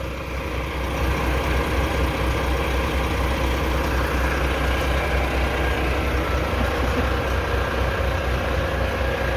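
Volvo-engined tronton sleeper bus with Laksana bodywork idling, a steady, loud and close low engine rumble with broad mechanical hum, continuous and unchanging throughout with no talk.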